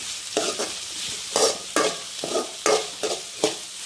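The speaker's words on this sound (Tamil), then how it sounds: "இந்த அளவுக்கு ஆனியன் நல்லா வதங்கினதுக்கப்புறமா 3 பச்சை மிளகாயை இந்த மாதிரி 2 கீறி வச்சுருக்கேன்" Onions and slit green chillies sautéing in a pan, a steady sizzle broken by several scraping stirs of a spoon at about half-second intervals, close and clear with no voices.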